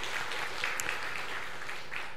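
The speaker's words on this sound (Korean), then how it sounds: "여러분 축복의 박수 부탁드립니다." A church congregation applauding, a soft, even patter of many hands clapping at a distance, faint and brief.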